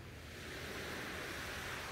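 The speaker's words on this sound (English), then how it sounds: "A wave washes over the sand towards you and touches your toes before receding." Surf washing across a sandy shore makes a continuous soft hiss and roar that builds gently and then holds, with no talking.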